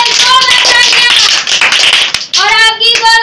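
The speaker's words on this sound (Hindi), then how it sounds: "जोरदार तालियां देंगे" Loud applause from an audience at a children's Bible competition in a kids' ministry, with steady clapping under raised children's voices and a short dip before the clapping swells again.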